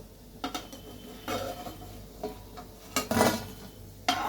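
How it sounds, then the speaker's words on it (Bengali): Fried lentil fritters lifted onto a metal plate, several sharp metallic clinks and scrapes at irregular intervals over a faint background, close by with no talking. "আমি এই থালাটার মধ্যে বড়াগুলোকে আস্তে আস্তে"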